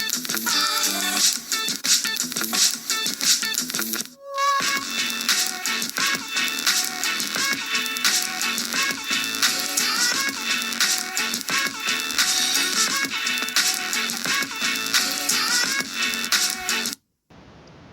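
Music played through a cheap knockoff Bluetooth speaker sounds harsh, tinny and rattly, with distorted, crackling highs and almost no bass, playing continuously with a brief dropout early on before cutting off abruptly.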